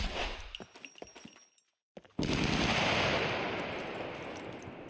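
Rapid gunfire in the survival shooter game Scum, a burst of sharp shots followed after a brief silence by a loud, sustained roar of continuous automatic fire.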